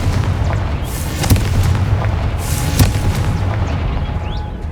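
A Confringo spell blast in Hogwarts Legacy, two heavy booming explosions over a continuous rumbling game background, with no talk.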